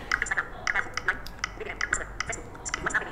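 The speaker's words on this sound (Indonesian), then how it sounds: "Misalkan aku mau ngetik" Fast keyboard typing on a computer, many light clicks in quick irregular bursts, close and fairly soft with no talk over it.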